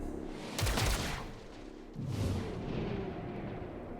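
Two loud bursts of breach gunfire from the XCOM Chimera Squad video game, the first sharp and brief, the second heavier and rolling into a sustained rumble.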